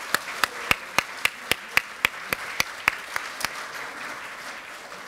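An audience claps for the candidates at a party floor-leader election. Sharp claps land in an even, quick rhythm over a softer wash of general applause, then ease off.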